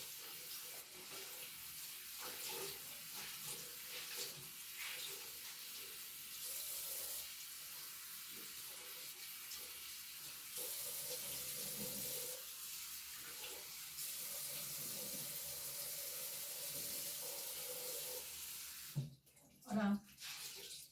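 Lukewarm water runs from a tap while someone rinses their face at a sink, giving a steady, close splashing hiss that holds for most of the stretch and breaks off briefly near the end.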